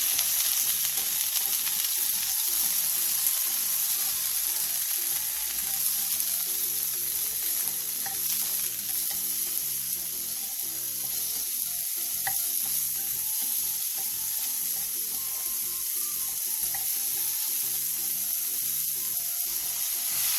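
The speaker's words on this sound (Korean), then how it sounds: "양송이버섯, 스팸, 데친새우 두 마리를 넣고 다시 한번 가볍게 볶아주세요." Button mushrooms, Spam and blanched shrimp stir-frying in a pan for a cream pasta, a dense, continuous sizzle close up and fairly loud, with no talking over it.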